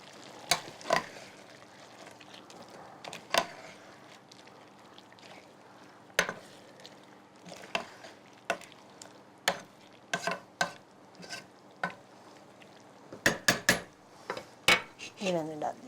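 Mint, coriander, tomato, chili and fried onion fried in a pan and stirred, heard as a soft sizzle under repeated sharp clinks and scrapes of a spoon against the pan, irregular and close.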